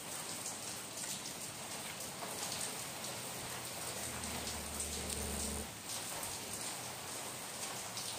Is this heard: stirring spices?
no